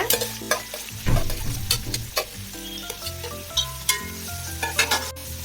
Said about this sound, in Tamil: இப்போ இந்த ஆனியன் வந்து நல்ல ப்ரௌன் கலருக்கு வர்ற வரைக்கும் நம்ம வந்து இதை வதக்கிக்கலாம்.